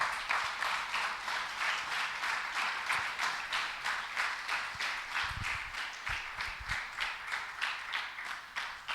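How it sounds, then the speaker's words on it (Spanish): A church congregation bursts into sustained applause, dense rhythmic clapping filling the room steadily from start to finish with no talking over it. "Dale un aplauso al Señor."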